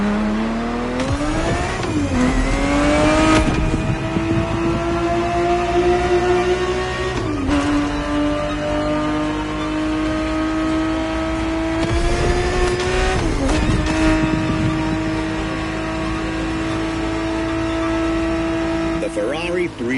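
A Ferrari 365 GTB4 from the 1970s races in The Crew Motorfest, its engine droning steadily. The revs climb and dip through repeated gear changes over twenty seconds, loud and close, with a voice talking over the engine.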